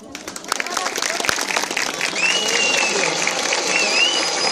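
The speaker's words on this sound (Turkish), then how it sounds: "Alkışlamıyorlar, alkışlıyorlar." An audience applauds at a 2015 village theatre show in Turkey. Sharp, dense clapping builds into a sustained wash of applause, and a whistle rises near the end.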